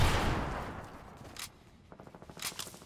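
Grenade explosions in Fortnite: a loud blast that rumbles and fades, then sharp cracks and a rapid burst of clattering pops, moderately close, with no one talking.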